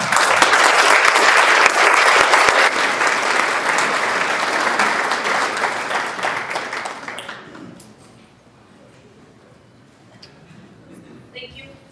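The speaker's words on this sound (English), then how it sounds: "Let's give a round of applause to her." Audience applause greeting a student speaker at a formal event, loud and dense for about seven seconds before fading to scattered claps and room noise.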